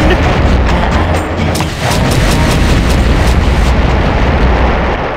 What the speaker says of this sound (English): Full explosion!